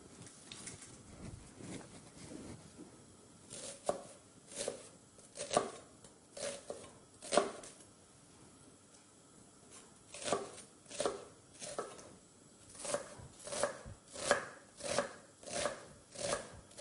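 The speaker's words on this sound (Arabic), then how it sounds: "ونقطع البصل" Olive-oil-ready onion being chopped with a knife on a board: bursts of sharp, rhythmic cutting strokes in clusters, fairly close and clear, with short pauses between runs and no talk.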